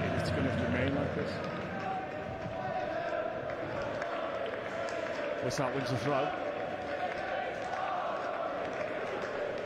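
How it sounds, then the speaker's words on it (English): A school football crowd at an under-15 match cheers and calls out steadily in the background, moderately distant, while a commentator talks over it. "Crowd in good voice this morning down below."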